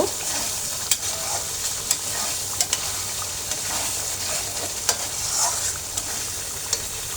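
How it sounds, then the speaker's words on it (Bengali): Large peeled shrimp sauté in a hot pan with a loud, steady sizzle and regular sharp clicks and scrapes from stirring; no voices. "তো চিংড়িগুলো এখন ভালো করে কষাই নেব"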